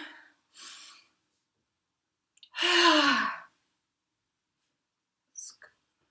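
Slow, deep breaths in and out during a guided calming exercise: a soft inhale, a longer and louder sighing exhale in the middle, then faint breath sounds at the end, close and quiet with no talk.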